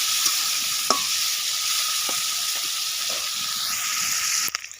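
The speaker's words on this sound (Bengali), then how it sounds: "এবার চিংড়ি মাছটাকে ভেজে তুলে নেবো" Shrimp frying in hot oil in a wok, a steady loud sizzle running throughout with a few sharp utensil clinks and scrapes, ending in a clatter near the close.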